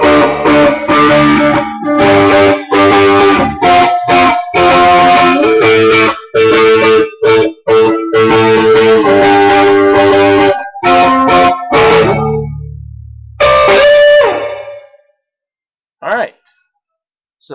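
Electric guitar run through effects and distortion plays a riff in loud, choppy, rhythmic bursts that stop and start, then breaks off into a few scattered notes near the end.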